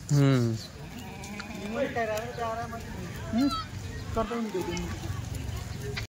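Kathiawadi goats being fed oilcake, several loud close bleats rising over a continuous background of people talking, with scattered hoof and movement noises.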